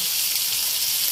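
Onion frying in hot oil with black peppercorns, a dense, loud, continuous sizzle heard close up with no other sounds.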